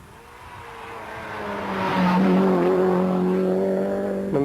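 A rally car, apparently a 1980s machine such as an Opel Ascona or Talbot Sunbeam, passes on a stage of the 1984 Cork 20 Rally. The engine swells loudly from a distance and the note shifts as it goes by, with no talk.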